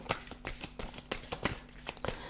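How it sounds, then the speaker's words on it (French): A deck of tarot cards is shuffled close up, a quick series of crisp riffling bursts about every half second, each a short papery flutter and snap. "Alors, je vais tirer une dernière carte."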